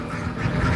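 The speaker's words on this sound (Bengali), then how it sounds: "নেত্রকোনায় হাঁসের মিছিল" A flock of ducks marching in a procession in Netrokona quack repeatedly at close range, overlapping nasal calls at fairly steady loudness throughout.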